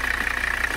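A 1985 Mercedes 300CD engine with a weird noise and leaking power steering fluid, running steadily up close, a continuous mechanical drone with a faint rhythmic knock riding under the hum, fairly loud and without talk.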